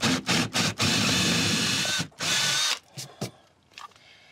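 A power drill bores a half-inch hole through an exterior wall for coaxial cable, whining in short loud bursts followed by a longer run, then fading into a few quieter clicks and knocks.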